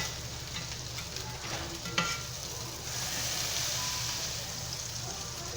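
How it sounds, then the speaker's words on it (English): Hamburger patties for Salisbury steak sizzle in a hot pan as they are pressed flat, a steady frying hiss with a small scrape or press partway through, close by and with no talking. "Just smash them down, make them flat."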